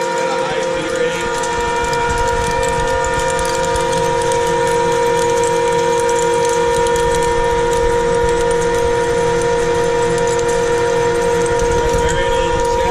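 A Standard Modern 2080 lathe taking a heavy cut at high feed with a carbide insert tool, a loud steady machining drone with strong sustained tonal hum, continuous and close for the whole stretch.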